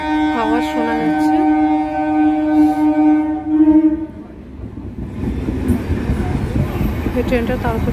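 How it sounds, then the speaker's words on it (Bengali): A train on the Tarakeswar to Howrah line sounds its horn in long tones, then rumbles past a closed railway gate with a rising clatter of wheels, close and loud, with voices talking over it. "ট্রেনের আওয়াজ শোনা যাচ্ছে।"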